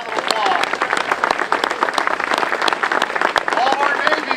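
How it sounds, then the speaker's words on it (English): Crowd applause at an outdoor Memorial Day ceremony in North Hampton, honoring Army veterans. Steady dense clapping continues throughout, loud and sustained, with a few voices or whistles mixed in. "Give a round of applause."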